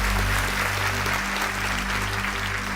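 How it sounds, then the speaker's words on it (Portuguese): An audience applauds the event team and volunteers with loud, continuous clapping that fills the hall, with a low musical hum underneath and no speech. "eu quero pedir um forte aplauso para a nossa equipe que toca o método Destiny"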